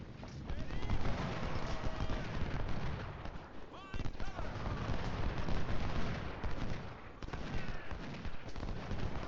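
Napoleon artillery cannons and massed musketry boom and crackle continuously in an Ultimate General: Civil War battle, dense loud volleys layered over one another with a voice talking underneath.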